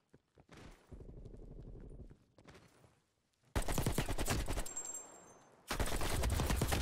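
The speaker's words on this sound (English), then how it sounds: "this AK is crazy actually. It shoots fast as fuck." An AK rifle fires rapidly in Black Ops Cold War in two loud, sustained bursts, the second starting right after the first, preceded by quieter game sounds and brief movement noises.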